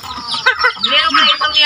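A chicken gives a brief run of close, loud clucks and rising squawky calls, alone and without talk.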